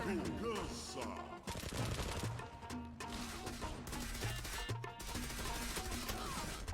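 Dense bursts of gunfire from a shooting video game, including a headshot, fire in rapid fusillades over game effects, loud and continuous with short gaps.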